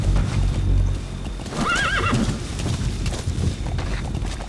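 A horse in the Metal Gear Solid V: The Phantom Pain video game gives a loud rising whinny midway, with steady clip-clop hoofbeats of a gallop running underneath throughout.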